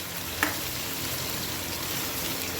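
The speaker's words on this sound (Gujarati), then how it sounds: "હવે આપણે એને એકદમ સરસ હલાવી લઈશું, એટલે બધું તેલમાં સતળાઈ જાય શાક." Ivy gourd vegetable fries in hot oil with a steady, dense sizzle close by, and one brief clink of a spoon against the pan near the start.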